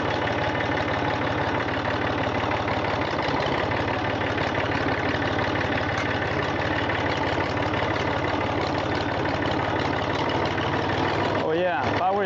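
A Massey Ferguson 231 tractor engine idles smoothly and steadily, a dense, continuous mid-range rumble that holds close and loud for the whole stretch, with a brief shift of tone near the end.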